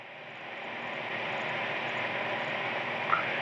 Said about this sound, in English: You can still hear the engine noise.